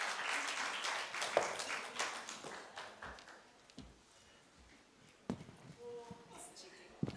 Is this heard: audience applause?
yes